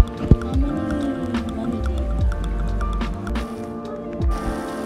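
Water refilling in Roblox Pressure Wash Simulator gurgles and squishes continuously, with liquid sloshing, bubbly tones and scattered sharp clicks layered over a busy game background.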